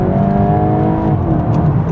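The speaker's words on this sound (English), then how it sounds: "It does it sometimes, like when the car is really warm and you literally redline it like this" A 2026 VW Golf 8.5 GTI with a warm engine revs hard to redline, giving a loud, continuous, close engine roar with rising harmonics that holds steady for the whole stretch.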